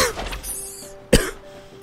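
A single sharp cough from someone with a week-long cold, loud and close, set against a quiet indoor background after a stretch of faint talk.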